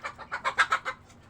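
A young pet chicken, a five-month-old bird, clucks up close in a quick run of about seven short, bright calls in a burst lasting under a second, then falls quiet against faint background hiss.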